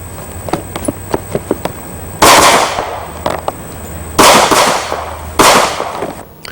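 Golan pistol shots from an Israel Arms International firearm, three loud, sharp close reports spaced a second or two apart, each with a short ringing decay, after a run of faint clicks and clinks.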